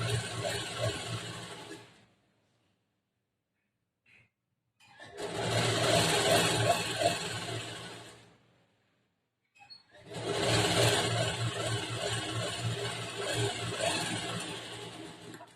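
A sewing machine stitches a half-inch seam along a blouse side, running in three steady bursts of continuous whirring with short silent pauses between, close and loud, with no talking.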